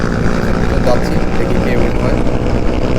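Yamaha R15 and Hero Karizma motorcycles drag racing, their engines droning loud and close in a continuous roar with steady wind rush.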